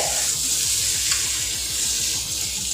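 Potato and cauliflower frying in a pan give off a constant bright sizzle, with a rapid series of low scraping strokes from stirring running underneath; close and fairly loud, with no talking.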